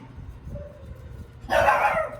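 One dog barks sharply and close after a quiet start, a short, loud yip near the end of the clip, with no voices.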